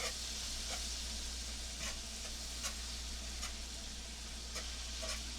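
Unsalted butter melting in a pan for Swedish meatballs, giving a soft steady sizzle with occasional light taps of a utensil stirring, close and continuous without talk.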